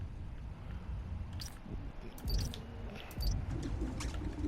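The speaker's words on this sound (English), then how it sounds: "It's the pigeons." Pigeons coo softly in a city park inside Marvel's Spider-Man: Miles Morales, with several soft, low calls and flutters blending over a steady ambient wash of wind and distant city noise.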